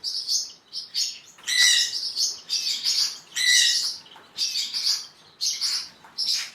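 Caged finches, including green gold finch varieties, chirp in quick, bright bursts of tweets and short calls, fairly close and steady, with no talk over them.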